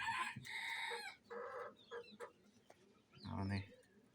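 Roosters and hens in a farmyard in the morning: a nearby rooster crows twice, long harmonic calls at the start and end, with short clucks and squawks from hens in between, all fairly loud and close.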